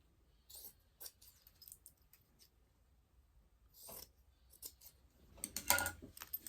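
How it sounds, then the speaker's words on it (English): Scissors trim excess fabric from the sides of a zippered pouch over a trash can, giving a few quiet snipping cuts spread out, then a louder burst of cutting near the end. "Now we need to trim off the excess on the sides."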